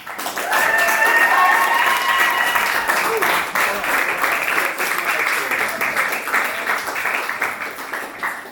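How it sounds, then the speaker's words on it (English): Audience applause for Jan, the leading lady of the stage production Darling: Making A Miracle, rises in a full round of many hands clapping, with whoops and cheering voices on top early on, then settling into steady clapping. "let's give the biggest round of applause for Jan"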